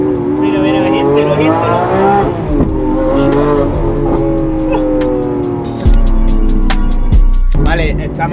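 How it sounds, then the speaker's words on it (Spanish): A Lamborghini SVJ engine roars continuously while driving, a loud sustained drone with shifting revs, and people talk over it inside the car. "aquí se escucha muchísimo el coche"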